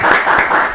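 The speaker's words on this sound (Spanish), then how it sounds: "a quien recibimos con un fortísimo aplauso" A studio audience applauds a journalist guest as he is welcomed onto a radio show, a brief, steady burst of dense clapping that fills the whole moment.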